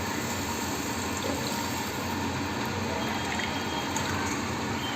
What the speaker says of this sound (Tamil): அந்த கரைச்சி வச்சுருக்கிற புளி தண்ணி இருக்குது இல்லையா, அதை வந்து இதோட அப்படியே ஆட் பண்ணிடுங்க.